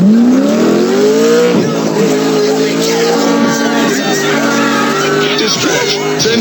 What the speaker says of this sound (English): It's the best damn engine I got here. This'll get me out of here fast.